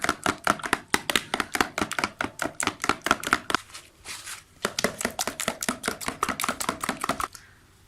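Eggs beaten by hand for an oven-free cake batter, a fast steady train of sharp clicking strokes against the bowl, close and loud, with one brief pause partway through before the rhythmic whisking resumes.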